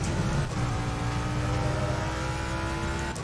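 A Jaguar G3 race car circles Monza in Assetto Corsa Competizione on cold tyres, its engine holding a steady, dense drone throughout without any talk over it.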